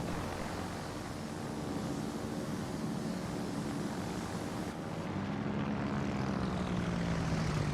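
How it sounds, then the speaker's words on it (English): Torpedo bomber aircraft in the naval combat game World of Warships fly past with a steady propeller drone and engine hum, loud and continuous, under a faint wash of sea in the background. "let's take some torpedo bombers out for a spin"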